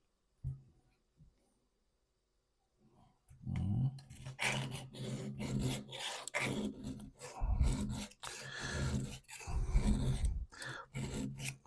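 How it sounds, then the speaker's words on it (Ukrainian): A multitool knife blade being sharpened, heard as repeated close scraping and rasping strokes in uneven bursts after a quiet start, with no talk. "спробуємо його підвести лезо, наскільки воно швидко гостриться"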